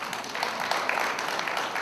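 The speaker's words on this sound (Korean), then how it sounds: "일단 박수로 모시겠습니다" Audience applause at a press conference launching a Gwangju citizens' council: a steady, dense wash of clapping that holds at an even level for about two seconds, with no voices over it.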